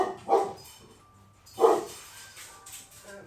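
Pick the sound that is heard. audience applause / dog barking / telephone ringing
dog barking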